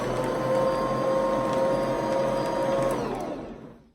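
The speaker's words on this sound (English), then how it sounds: "And I love my Bosch mixer." A Bosch stand mixer runs at steady speed blending muffin batter in a bowl, a loud continuous motor whir with a tonal hum that holds, then winds down and stops near the end.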